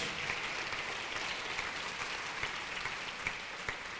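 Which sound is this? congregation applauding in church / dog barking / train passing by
congregation applauding in church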